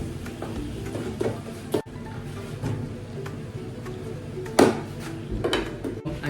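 Chicken fry curry with curry leaves is stirred in a pan, producing scattered close clanks and knocks of a utensil against metal over a low background, with a couple of louder hits and no talking.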